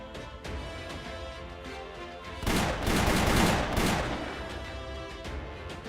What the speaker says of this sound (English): Six bullets shoot out of her revolver at once.